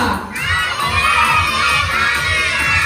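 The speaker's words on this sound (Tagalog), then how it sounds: "Sabihin nyo na malakas, happy birthday, Anika!" A group of children loudly shout a birthday greeting together at a seventh birthday party, their voices merging into a sustained, cheering crowd roar close by.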